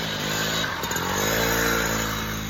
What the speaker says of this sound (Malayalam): അപ്പുറത്തെ വീട് ചേട്ടനാണ് സ്കൂട്ടിയിൽ പോയിക്കൊണ്ടിരിക്കുന്നത്.